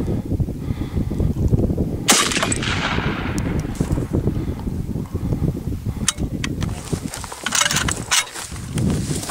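M77 Zastava rifle firing Tula ammunition outdoors, the magazine blowing apart, heard as a loud sharp shot with a long decaying report, then rumbling wind-buffeted noise and a few more crisp cracks and snaps later.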